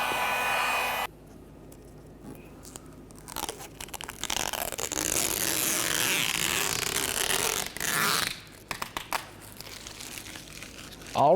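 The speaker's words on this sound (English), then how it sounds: "then we can remove the protective plastic along the outside" Protective plastic film is peeled from a window deflector on a 2004-2015 Nissan Titan, giving bursts of crinkling and tearing rustle between pauses, close up and fairly loud, ending in a sharp sweep.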